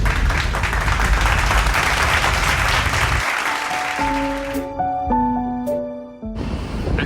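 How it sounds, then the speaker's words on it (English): Clapping for Dad on a Walt Disney Studios lot tour, a loud close burst of applause for about three seconds that gives way to a bright tonal melody of sustained notes playing in the background. "Let's give a round of applause to Dad for taking us"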